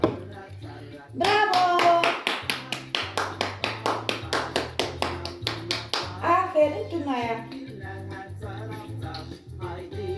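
A nine-month-old baby girl claps her hands in a quick, regular series of close, sharp pats, while someone talks to her in Turkish and a voice chimes in between.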